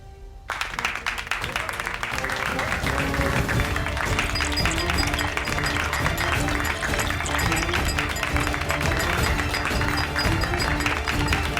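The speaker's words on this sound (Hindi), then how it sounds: "ताली बजाओ" A crowd at a TV show set clapping together, steady dense applause that starts abruptly and holds loud and continuous to the end, layered with music and background voices.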